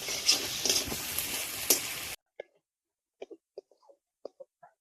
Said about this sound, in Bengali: দিয়ে দেবো পেঁয়াজ বাটা, রসুন বাটা, আদা বাটা, কাঁচা লঙ্কা বাটা এবং বাদাম বাটা দিয়ে একসাথে ভালো করে কষিয়ে নেব।